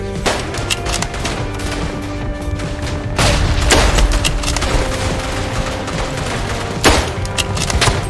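Bomb blasts and gunfire in a World War One style Fortnite video game: dense, loud crackling shots with several heavy booming explosions, continuous throughout, without speech.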